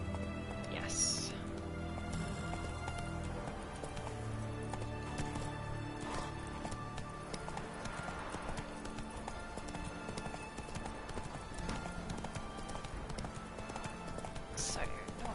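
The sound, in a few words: horse galloping, from video game The Witcher 3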